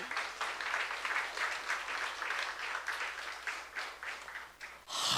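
A church congregation claps during a sermon, a fairly faint, dense wash of many hands with a brief pause near the end.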